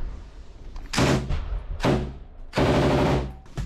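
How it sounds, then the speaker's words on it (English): Gunfire in a battle amid the ruins of Avdiivka, with three loud, sustained bursts, each lasting roughly half a second to a second, separated by short gaps, close and dominant with no talk. "Watch out, he's shooting at our corner."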